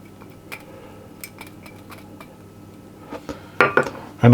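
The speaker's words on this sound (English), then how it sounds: "And I'm going to whisk those" Eggs and egg yolks being whisked in a bowl, light irregular metallic clinks and taps that grow louder and more rapid toward the end, close by with no talk.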